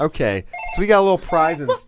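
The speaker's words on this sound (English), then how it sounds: "that's a phone call we got right there." A telephone rings during a podcast recording, its bell tones sounding briefly under close, continuous conversation from several voices.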